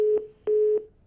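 Telephone line disconnected tone after a caller hung up during a news broadcast call, two steady beeps, one short and one longer, loud and clean with nothing else.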